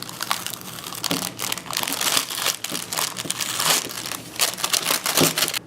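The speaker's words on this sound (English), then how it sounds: "now we're gonna wait till it's dry off so we can pull off the wax paper" Dried wax paper is peeled off a homemade prank craft, making continuous close crinkling and crackling with uneven bursts of papery rustle and no voices.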